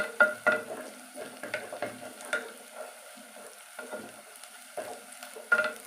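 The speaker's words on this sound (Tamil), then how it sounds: "எண்ணெயில் நல்லா வதங்கட்டும். நல்லா கிளறி விட்டே இருப்போம்." Onions sautéing in oil while being stirred, soft sizzling under repeated scraping and clinking strokes of a spoon against the pan, close and uneven in rhythm.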